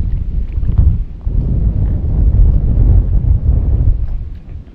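Strong seaside wind buffeting a microphone on a rocky shore, a loud low rumbling roar in uneven gusts that dips briefly and then swells again, with no voices.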